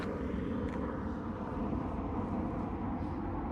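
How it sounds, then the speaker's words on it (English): A low, steady roar of a Delta Airlines airliner passing overhead in Toronto, droning evenly throughout with a rumbling low end. "That looks like a Delta Airlines plane."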